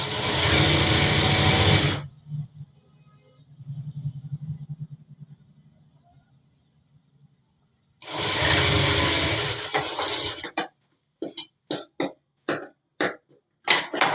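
An electric sewing machine stitches the collar of a full-sleeved shirt in two loud, sustained runs separated by quieter handling noise, followed by short, rapid bursts of stitching.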